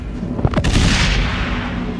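Booming mortar fire in the video game INSIDE, a few heavy thuds and blasts near the start that settle into a loud, sustained rumbling battle din.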